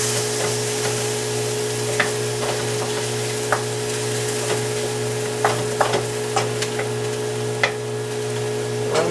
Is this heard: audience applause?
no